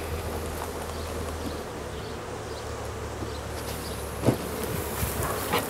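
A dense swarm of honey bees pours from hive entrances after long confinement on a transport truck, filling the air with a continuous, close buzzing hum and scattered faint knocks.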